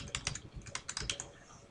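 Fingers tap out a short run of keystrokes on a computer keyboard while a password is entered into a field, a quick uneven burst of clicks close to the microphone with no talking.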